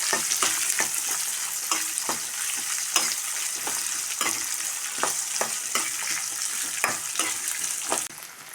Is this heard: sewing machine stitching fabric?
no